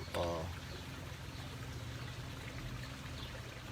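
Liquid is poured steadily while mixing a homemade bug spray with poison and Dawn soap, a continuous faint trickling wash lasting several seconds after a brief louder start, heard at a distance in a quiet outdoor setting.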